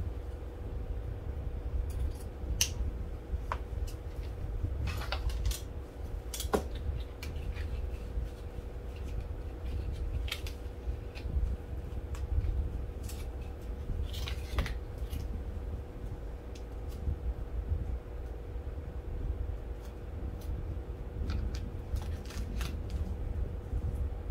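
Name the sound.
scissors cutting ribbon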